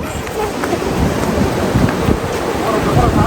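Sea waves wash onto a sandy beach at Digha Mohona in the morning, a continuous loud roar of surf mixed with wind buffeting the microphone. Voices call out faintly under the noise.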